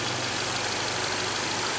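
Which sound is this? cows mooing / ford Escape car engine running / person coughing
ford Escape car engine running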